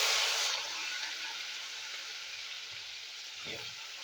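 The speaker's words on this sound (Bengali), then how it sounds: "কাঁকরোলগুলো ভেজে নেবো" Pointed gourd (kakrol) sizzles in hot mustard oil in a kadai, a steady, close, broadband frying hiss that is loudest at the start and then settles into an even crackle with a faint stir near the end.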